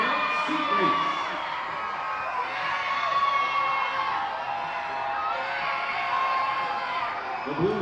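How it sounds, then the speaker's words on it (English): A large arena crowd of fans cheers and screams continuously in a seat-color cheering contest at a school sports event, a dense, loud roar with shrill whoops rising and falling throughout. "All right, fans, cheer as loud as you can for your seat color"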